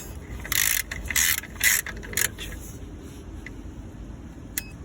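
Ratchet wrench tightening a part on a 1.4 TSI VW Golf MK6 engine during a service, four quick clicking ratchet bursts up close, then a faint tick near the end in a quiet workshop.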